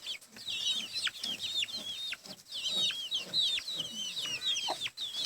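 Several chickens cluck and chatter continuously close by, a busy overlapping flock sound with no talking.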